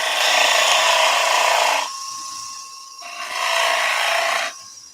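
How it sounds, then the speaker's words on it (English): A skew chisel scraping spinning timber on a lathe while turning a toadstool nutcracker, a loud, steady hissing rasp that changes tone and drops back in a few passes, with no voices. "Little bit of a scrape with the skew."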